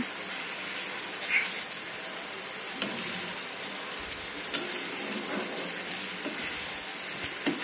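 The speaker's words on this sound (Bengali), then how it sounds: "আর একটু ভাজা ভাজা হবে মশলাটা" A steady sizzling hiss of spice paste frying in a pan, with occasional soft clicks and pops of stirring.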